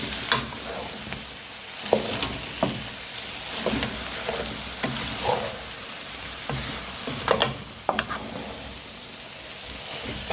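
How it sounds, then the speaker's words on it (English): Yam and ugu leaves are stir-fried in a pot under a constant sizzle, with scattered scrapes and taps of a spoon against the pot throughout. "You stir fry it like this."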